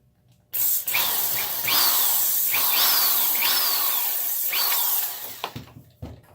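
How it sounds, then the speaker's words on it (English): Continuous high whine and grinding of a power drill boring into wood for several seconds, close and loud, then winding down. "And I drill over a hole in the table."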